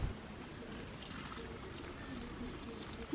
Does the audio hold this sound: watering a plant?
yes